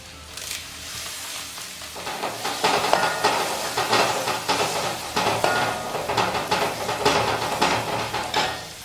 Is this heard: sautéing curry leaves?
yes